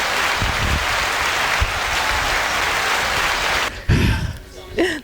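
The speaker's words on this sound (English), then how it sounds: "Hand claps." A podcast audience greets a guest with loud, dense applause that rolls on steadily for several seconds, then cuts off as people begin talking.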